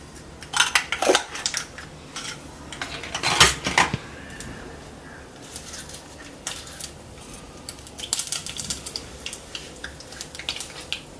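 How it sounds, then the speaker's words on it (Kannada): Mustard seeds tossed into a hot pan for tempering a cucumber tambuli: a loose flurry of bright crackles and pops, with sharp clinks like utensils on a pot, bursting in clusters and then scattering again. "ಸೊ ಈಗ ಸಾಸಿವೆ ಹಾಕ್ತಾ ಇದೀನಿ"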